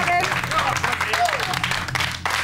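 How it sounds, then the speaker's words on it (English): Applause from a TV studio audience, steady clapping filling the room, with a voice speaking over it. "Keep the applause going"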